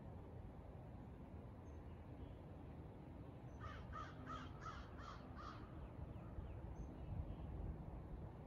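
Outdoors, a crow caws about five times in a quick even series, faint and distant over a constant low background rumble.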